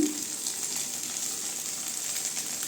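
Beaten egg sizzling and frying steadily in a hot pan as it is stirred for Tamil-style egg rice, a continuous close hiss with no talk.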